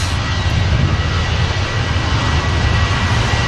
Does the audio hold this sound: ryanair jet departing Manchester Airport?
yes